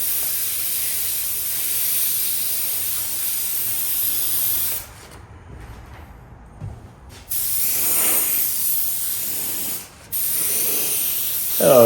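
An airbrush hisses steadily as it lays paint onto a motorcycle tank, a continuous close spray broken by a few short pauses, with no one talking.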